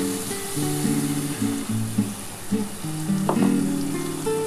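Spiced water poured into hot oil for a bhetki fish curry sizzles loudly and steadily, with a spoon stirring and clinking against the pan. Quiet background music plays underneath.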